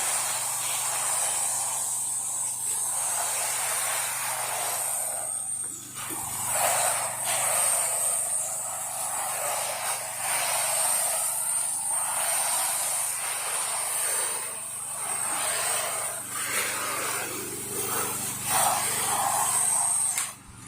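A pressure washer sprays continuously while rinsing a porch and flowers, a loud, steady hissing jet that shifts slightly in tone as the stream moves across surfaces, with an engine hum underneath.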